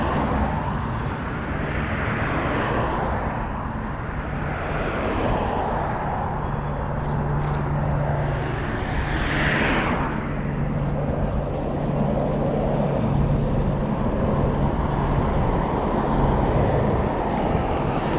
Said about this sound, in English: Police helicopter up ahead and to my left.